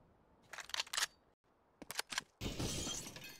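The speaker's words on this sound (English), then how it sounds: "the silence does break as they break the glass itself" Glass breaks in Counter-Strike on the Nuke map during an ESL Challenger League match, with bursts of sharp shattering crackle, a short gap, more breaking, then a longer spray of falling shards.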